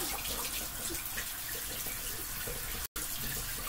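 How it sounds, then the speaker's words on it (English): Hot water running from a tap into a sink, a continuous soft hiss of flow with a brief dropout near the end. "So what I do, I turn on hot water"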